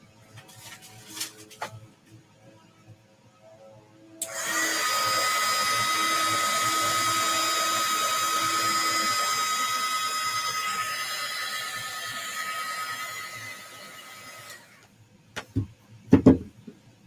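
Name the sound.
heat gun drying liquid on adhesive vinyl on glass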